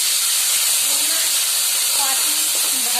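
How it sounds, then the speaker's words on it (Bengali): Prawns coated in salt and turmeric frying in a hot pan, a steady loud hiss and sizzle that holds even throughout with no gaps. "এরপর আমি এই চিংড়ি মাছগুলো নুন হলুদ যে মাখানো আছে করে দিচ্ছি, ভেজে নেবো।"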